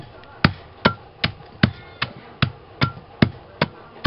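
Charcoal being pounded into a fine powder, heard as about ten regular, evenly spaced thuds roughly every 0.4 seconds, close and fairly loud, with no voice over them.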